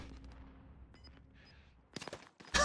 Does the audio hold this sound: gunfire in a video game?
yes